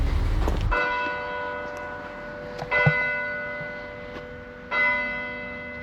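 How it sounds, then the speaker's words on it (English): Deep church bells tolling in a French village preserved as WWII ruins, three strong strikes spaced a couple of seconds apart, each leaving a long humming ring that decays slowly in open air. "Wow, the church bells. It's deep."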